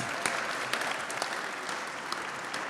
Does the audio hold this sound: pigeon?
no